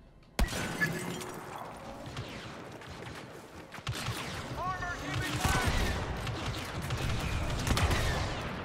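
Gunfire in the Star Wars Battlefront 2 campaign, with sharp shots and bursts of blaster and machine-gun fire amid crashes and rumbling that grow denser toward the end, with players talking over it.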